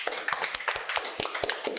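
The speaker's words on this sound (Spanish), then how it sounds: "Un aplauso para el papá de Lugo." Scattered hand claps from a small group answer a call to applaud at a Saturday church gathering, uneven and moderately close for a couple of seconds.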